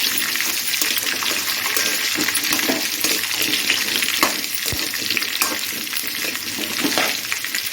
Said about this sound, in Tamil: இதை போட்டு நல்லா 1 நிமிஷம் வந்து நல்லா வதக்கி விட்டுக்கோங்க